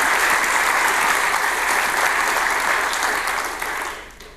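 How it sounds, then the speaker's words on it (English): Steady, full audience applause for the organizers at a conference, loud and continuous before tapering off at the end. "So just applause to the organizers."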